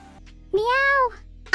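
A single drawn-out meow from a human voice imitating a cat, rising then falling in pitch, close and clear.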